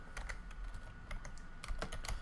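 Close keystrokes on a computer keyboard while Python code is typed, coming in uneven clusters of sharp clicks with brief gaps and no speech.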